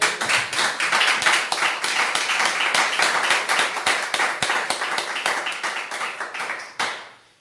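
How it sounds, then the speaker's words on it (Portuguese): A church congregation claps together in praise of God during a live service, a dense, steady burst of many hands that holds for several seconds, then thins and fades out near the end. "Vamos dar uma salva de palmas para o nosso Deus?"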